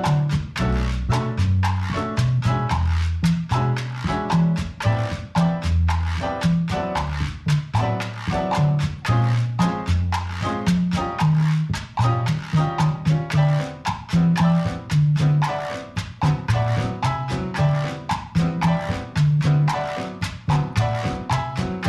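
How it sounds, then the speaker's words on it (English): Latin rhythm section of piano and percussion playing a cha-cha masacote solo section, with a steady syncopated piano montuno over busy hand percussion and a bass groove, loud and continuous with no talking. "Now, I'm going to play 8 bars of the A section with 8 bars of the masacote section or the solo section with piano and percussion"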